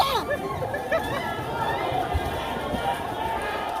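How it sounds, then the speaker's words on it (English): Panicked crowd fleeing after a smoke bomb blast at a Saikazaki fishing harbor event in Japan: dense running footsteps and agitated chatter form a steady close hubbub, with a few sharp cries rising above the commotion. "Crowds ran away screaming."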